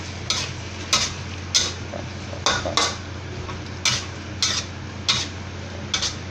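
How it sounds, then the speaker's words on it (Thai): Tomatoes stir-fried in a pan for a sweet and sour dish: a low background sizzle with about a dozen sharp, rhythmic scrapes and clanks of a spatula against the pan, close and loud, with no speech. "เดี๋ยวก็ใส่มะเขือเทศลงไปครับนี่ครับมะเขือเทศ ใส่ไปก็เดี๋ยวเราก็ผัดสะพานเข้า"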